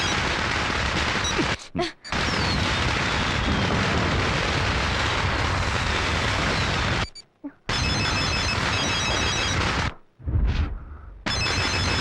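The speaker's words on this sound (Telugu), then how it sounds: "రింగ్ అవుతుంది." A telephone rings in a climactic fight scene, with faint repeated electronic ring tones buried under loud, continuous crashing action noise and brief gaps of silence.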